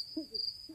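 Crickets chirping as a sound effect in a Roblox music video, a steady high-pitched trill over faint low murmuring tones.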